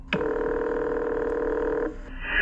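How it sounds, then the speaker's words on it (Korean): A single sustained telephone tone, loud and steady for nearly two seconds, then cut off, with faint higher tones after. "이내 경찰서로 크리스가 직접 전화를 걸어요"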